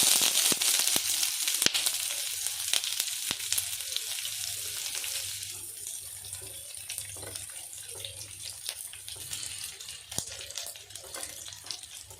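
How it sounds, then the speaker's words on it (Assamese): Onions and a bay leaf fry in hot oil with a steady, close, hissing sizzle that starts strong and eases slightly about halfway through, with no talking. "এতিয়া পিঁয়াজখিনি ৰঙচুৱা নোহোৱালৈকে লাৰি থাকিব।"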